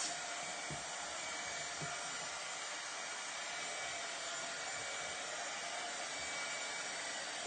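Steady, continuous broadband blowing of a heat or hair dryer drying a glitter craft project, loud and even throughout, with no talk.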